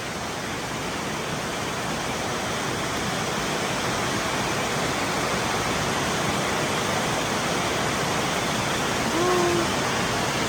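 Floodwater rushes over a road in a heavy storm, a loud, dense, unbroken roar of moving water that holds steady throughout.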